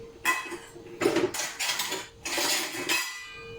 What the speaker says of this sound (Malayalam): എങ്കിലും ഞാൻ സ്പൂൺ വെച്ചിട്ട് കോരി വയ്ക്കും.